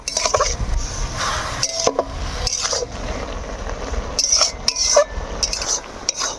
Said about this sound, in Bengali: পেঁয়াজ আর টমেটো গলার জন্য দিদিমো নুন আর দিদিমো হলুদ গুঁড়া এখন ভালোভাবে নাড়ি চাড়ি নিব